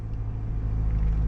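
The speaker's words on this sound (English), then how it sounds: "So you can hear the engine running right now." Gas engine of a 2021 Jeep Wrangler 4xe Unlimited Rubicon idling while stopped, heard from inside as a steady low rumble with a faint hum, constant and unbroken.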